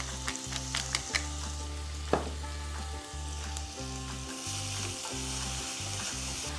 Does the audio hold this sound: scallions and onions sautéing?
yes